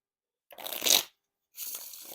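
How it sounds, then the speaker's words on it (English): Two quick riffle shuffles of Bicycle Jolly Roger playing cards, each a close crisp burst of flicking card edges separated by a brief pause. "You just gotta shuffle them like 10 times and then they'll feel pretty nice."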